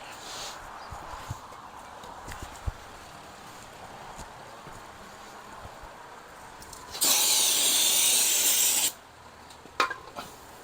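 Brake cleaner blasts from an aerosol can onto intake parts from a Harley Shovelhead engine, one loud close hiss lasting about two seconds amid quiet shop handling noises and a few light metallic clicks.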